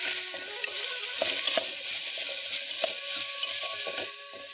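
Grated carrot and coconut fry in hot ghee with a steady, bright sizzle throughout, broken now and then by soft stirring scrapes, close up with no voices.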